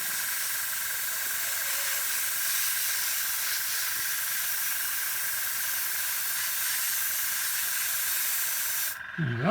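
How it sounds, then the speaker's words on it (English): An airbrush sprays black paint onto a display board with a steady, close hiss that runs unbroken until it cuts off near the end. "so that's why we're using the airbrush."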